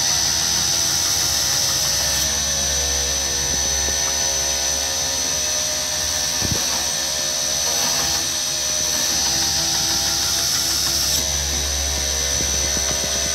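Belt grinder with 36 grit abrasive shaping the edge of a knife made from round bar, a loud, steady whine and hum running throughout with slight shifts in pressure and a brief knock midway, no speech.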